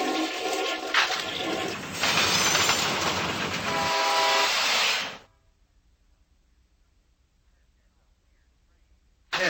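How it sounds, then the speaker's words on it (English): A cartoon train runs with loud rumbling and a blaring horn for about five seconds, then cuts off abruptly to near silence. "Pull that chain, Pokey. We'll stop this train ourselves"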